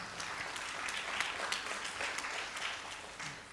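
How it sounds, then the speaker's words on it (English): An audience claps steadily throughout at a talk with Vikrant Massey, a dense, even patter of many hands that stays at a moderate level from start to finish. "give your own self a huge round of applause"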